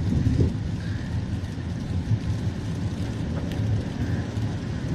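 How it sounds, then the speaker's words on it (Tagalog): Steady rain falls at Buendia Station in Metro Manila during a typhoon signal, a constant dense wash of noise with a low rumble of traffic or wind underneath and no voices. "Tuloy-tuloy pa rin yung ulan hanggang ngayon mula kagabi."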